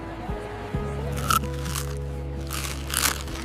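Crunchy calamari sandwich eaten outdoors in Spain, with several close, crisp crunching bites scattered over a low steady background hum.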